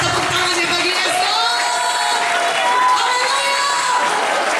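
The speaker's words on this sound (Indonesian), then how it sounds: "Gimana tepuk tangannya bagi Yesus?" A large crowd at a church revival service in Semarang cheers and whoops loudly and continuously, with shouts rising over a steady roar and some scattered clapping.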